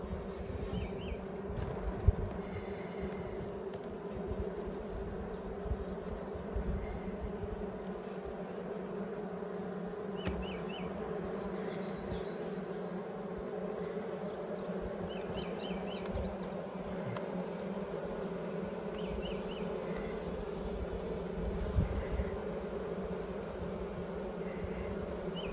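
Honeybees buzz thickly around an open Layens hive, a steady, dense drone close by that continues for the whole stretch, with faint higher hums of individual bees passing.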